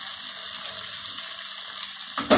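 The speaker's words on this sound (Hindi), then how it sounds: "फिर इसको आधा घंटे के लिए भूनूंगी अच्छी तरह।" Chicken nihari with yogurt and nihari masala frying in a pan gives a steady, bright, even sizzle, with a sudden louder crackling burst right at the end.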